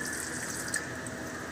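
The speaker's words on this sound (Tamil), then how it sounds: "இனி இப்போ நம்ம தண்ணி ஊற்றலாம்" Water poured steadily into a pot of rice for chicken biryani, a faint, continuous splashing and trickling stream heard up close and alone.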